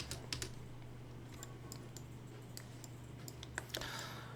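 Keys pressed on a computer keyboard during 3D mesh modeling, a quiet scattering of light clicks, some in quick bursts and others spaced apart, over a steady low electrical hum with no talking.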